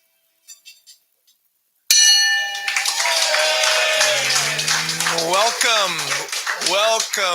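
After a few soft taps, a bell rings out loudly with a bright, lingering clang at a yachting luncheon, followed by a crowd cheering and calling out.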